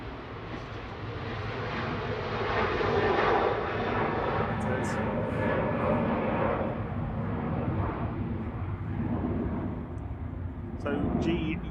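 A Ryanair Boeing 737-800 departs Manchester Airport for Corfu, its jet roar building and holding as a loud, broad rumble for several seconds before easing slightly, with faint chatter at points.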